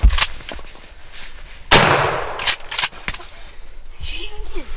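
Shotguns fire during a Missouri youth pigeon hunt: one loud, sharp blast with a long decaying tail, sitting among fainter pops and people talking and shouting nearby.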